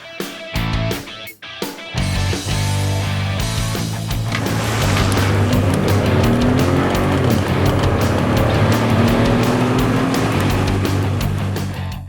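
An unmodified Ford F-150 EcoBoost pickup accelerates hard from 0 to 60 mph, its engine rising steadily in pitch through gear changes, loud and continuous, after a few clunks and thumps at the start.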